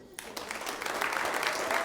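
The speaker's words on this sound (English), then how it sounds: "Clap if you're over 40 years old." Comedy club audience at a Laugh Factory stand-up show clapping, a dense steady wash of applause that swells after a brief quiet start and holds loud and sustained, with some crowd voices mixed in.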